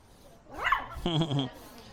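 A small dog gives a couple of short, high yappy barks up close, with a whiny tone; no speech.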